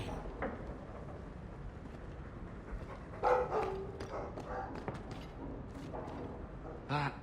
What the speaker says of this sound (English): That dog.